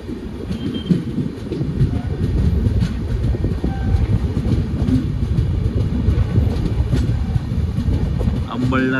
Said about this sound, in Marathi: Amalner railway station platform number 1 वर आपली ट्रेन आलेली आहे.